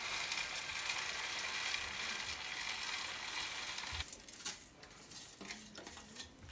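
Boondi being stirred into warm sugar syrup with the flame switched off, giving soft wet clinks and scraping of a spoon against the pan that grow sparser and quieter partway through.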